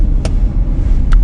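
A car engine runs steadily while driving, a loud continuous low rumble throughout, with two brief faint higher ticks above it and no talking.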